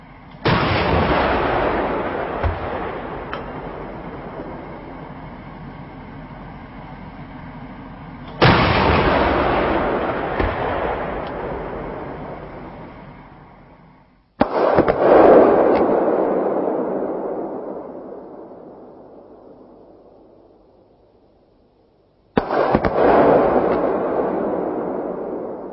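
A CV9040 armored vehicle's cannon fires 3P programmable rounds at a concrete wall, four heavy booming shots spaced several seconds apart, each followed by a long rolling decay, loud and close with no talk.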